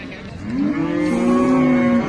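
A cow gives a long, loud moo that rises and holds steady at the Sangola cattle market in Maharashtra, with faint background noise around it.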